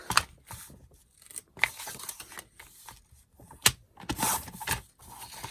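Scissors trim the edge of paper for a journal page, a handful of quiet, close snips and rustles with pauses between them and no talking.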